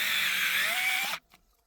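A cordless screwdriver bores into wood, giving a steady high whine that rises slightly in pitch before stopping abruptly, followed by a faint rattle.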